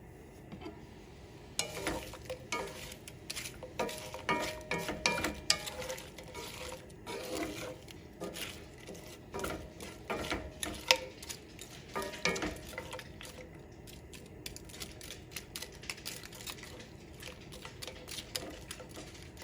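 Thawed frozen shrimp sizzle in a pan for shrimp linguine as their liquid cooks off: a close, continuous hiss broken by irregular crackles and small pops, with no talking.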